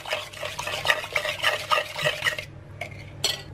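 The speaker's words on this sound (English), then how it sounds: "add 1/3 cup of milk, almond milk, any milk you like. Mix that in." Milk, any kind such as almond milk, stirred into a Greek yogurt loaf batter in a bowl, with rhythmic wet scraping strokes for a few seconds before a brief quiet and one last stir.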